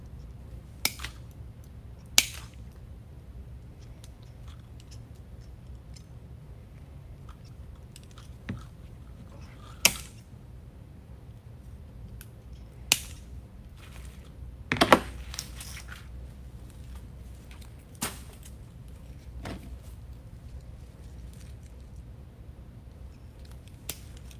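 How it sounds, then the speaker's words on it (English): Grapevine stems are snipped close to the base for a wreath, giving a series of sharp, isolated cutting clicks spaced irregularly over a quiet background, with one cluster of snaps near the middle. "I'm gonna cut these as close to the base as I can get."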